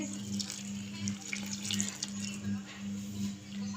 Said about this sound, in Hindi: मैदा डालने के बाद 1 गिलास हम पानी का डालेंगे